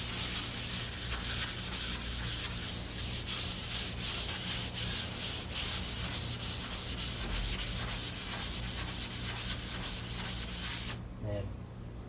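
Steady hand sanding on the fiberglass deck lid of a 1969 Corvette C3, a close, continuous scratchy rubbing with quick regular strokes for about eleven seconds before stopping abruptly near the end.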